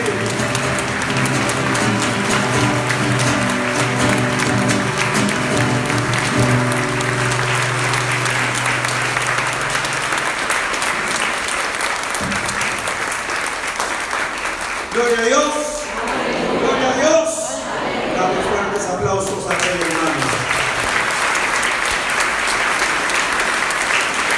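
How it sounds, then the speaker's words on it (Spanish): A church congregation applauds loudly and continuously in a large hall, the clapping sustained throughout while a voice speaks and sings over it and music plays underneath early on. "Dale fuertes aplausos a Él."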